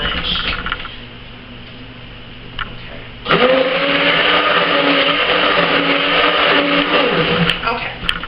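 A blender whirs as it mixes homemade soap, running at a lower steady drone and then jumping to a louder, higher whine partway through. Voices talk over it now and then.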